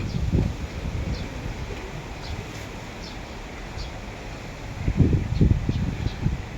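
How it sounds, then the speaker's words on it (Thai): Strong wind blows across Koh Loi island, a steady low rumbling buffet on the microphone that swells into heavier gusts near the end, with no voices. "ลมพัดแรง"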